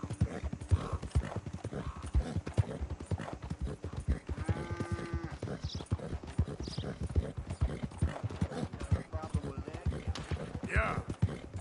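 Horse hooves clop in a fast, steady rhythm through a swamp in Red Dead Redemption 2, with a short horse whinny partway through and a faint voice now and then.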